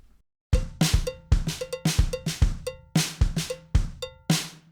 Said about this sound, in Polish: bodajże 56 to jest u mnie cowbell. Widzimy? Jest cowbell.